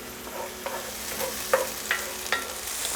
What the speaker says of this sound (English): go in with our onions with a tablespoon of water. And we're gonna get these mixed around over this medium heat until they're caramelized